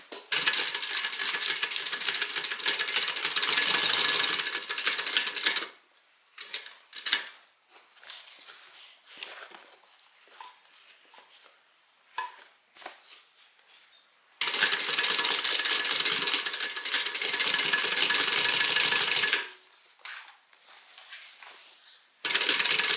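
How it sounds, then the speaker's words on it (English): A home sewing machine stitches a seam with a 1/2 inch allowance up to a marked point for a boxed corner, running in two steady, loud bursts of rapid mechanical whirring separated by quieter handling noises. "So I'm going to stitch to that point right there."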